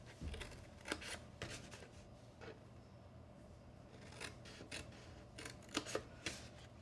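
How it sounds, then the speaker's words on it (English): Scissors snipping through card stock along score lines while making a half-sheet gift box: quiet, close crisp cuts in a loose series of short bursts against a faint background hum. "I'm going to cut up each of the vertical score lines and stop at that first horizontal score line"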